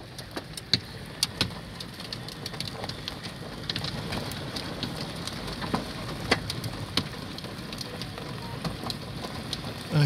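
Rain keeps falling as a hailstorm eases, a continuous hiss of drops broken by scattered sharp ticks and splats close by, with no talking.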